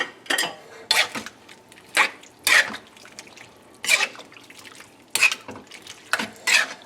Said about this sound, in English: Mix well, get the potatoes in the sauce, the sausage, the brown sausage mixed in this well